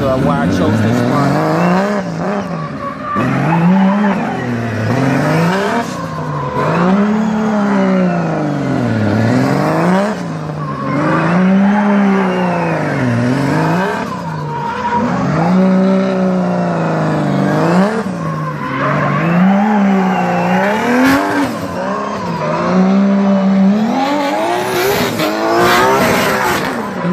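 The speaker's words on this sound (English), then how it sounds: "That is how you warm up tires." A Formula Drift car at Irwindale Speedway warms its tires during the 2017 finals, its engine revving up and down in a steady rhythmic cycle with tire squeal, loud and close, repeating for nearly half a minute.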